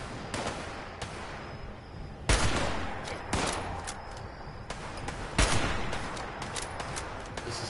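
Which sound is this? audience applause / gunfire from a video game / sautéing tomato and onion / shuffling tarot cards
gunfire from a video game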